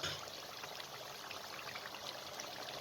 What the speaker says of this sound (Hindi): अब इसके अंदर 3 गिलास पानी शामिल कर दें ताकि गोश्त अच्छे तरीके से आलूओं के साथ मज़ीद गल जाए।